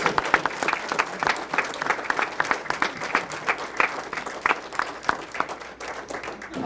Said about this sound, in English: a big applaud for the Gold Stars